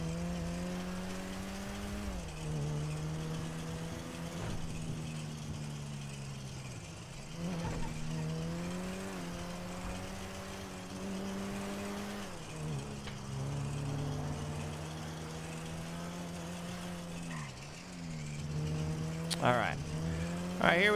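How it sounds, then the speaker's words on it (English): Cars in a GTA 5 roleplay game, with a sustained engine drone that shifts in pitch and bursts of tire squeal, running continuously at moderate loudness with a louder flourish near the end. "It's the beautiful sound of the screeching tires."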